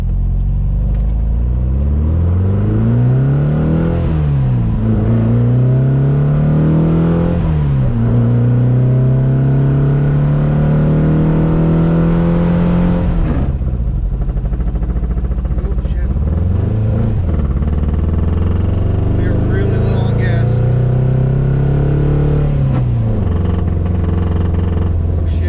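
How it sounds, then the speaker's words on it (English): Porsche 914 bought for $800 driving, its engine revving up and dropping through several gear changes, loud and close throughout with steady rumble and rising whine. "Today I got to drive it a little further, and I do have some video"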